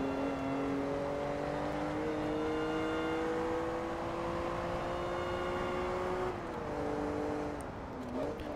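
In Forza Motorsport 2, a car engine revs high and steady toward a 9,000 RPM redline. Its tone climbs slowly, then drops briefly with a gear change, loud and continuous with no talk.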